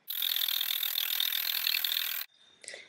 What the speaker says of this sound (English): It does take a while to whisk, so I'll show you when I'm done.